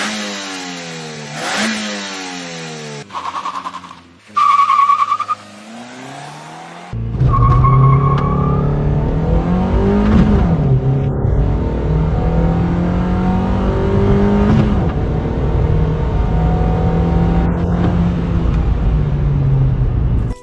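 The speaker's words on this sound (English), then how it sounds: "let's do a straight line acceleration test." A Mazda2 hatchback on Michelin PS3 tyres accelerates hard in a straight line, its engine revving loudly up through the gears with rising pitch and brief shift breaks, heard from close by.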